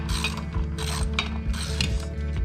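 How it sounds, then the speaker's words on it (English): A 9/16 ratchet tightens the motor-to-motor-plate bolts on a Pentair Super Flo pool pump, giving rapid, close metallic clicking in bursts of repeated pawl ticks with brief pauses between strokes. "we'll tighten these down with our 9/16 ratchet"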